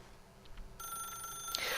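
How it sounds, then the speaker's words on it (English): A telephone starts ringing partway through, a bright electronic trill that builds over faint background noise, heard in the video game The Stanley Parable. "then pick up the phone"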